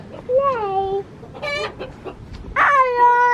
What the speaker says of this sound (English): There's those chickens. Bok bok chickens.